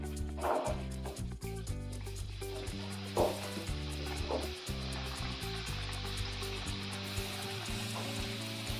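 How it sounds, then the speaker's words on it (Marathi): Modak dumplings frying in hot oil, a continuous bubbling sizzle with occasional louder crackles and pops, heard close up with faint background noise and no talk. "आता आपण ते तळून घेऊया"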